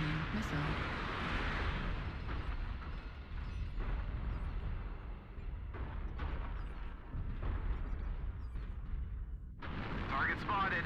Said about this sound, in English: Firing missiles on Beta.